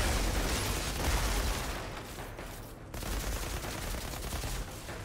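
Sustained automatic assault rifle fire in the video game Outriders, a dense, loud rattle of shots that barely lets up, briefly dipping before resuming at full intensity, with no speech.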